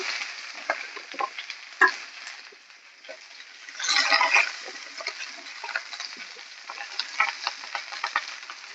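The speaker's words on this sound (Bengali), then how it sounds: "একে একে আমি প্রত্যেক কটা সবজি এইখানে দিয়ে দেবো। সব সবজি একবারে দিয়ে দেবো।" Potatoes, flat beans and other mixed vegetables are tipped into a hot pan for a vegetarian curry, giving a steady sizzle with scattered stirring clatter and a louder burst of frying midway.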